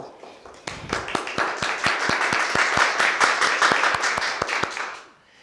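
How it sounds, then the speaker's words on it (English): Gala guests applaud the evening's host, a burst of clapping that swells quickly, holds as a dense patter with several sharp individual claps standing out, then fades away near the end. "now would be a good time to applaud Roberto"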